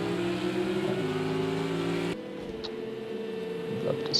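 Porsche race car engine in Project Cars 2 at Hockenheim, a steady droning whine that shifts pitch partway through as the car slows and pulls through a hairpin, with no talk.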